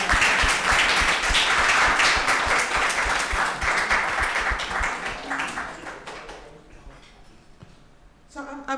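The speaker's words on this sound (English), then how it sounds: "So I think they deserve some applause." Audience applause at a panel discussion about the march to close Attica prison, dense and sustained clapping for about six seconds before thinning out and fading.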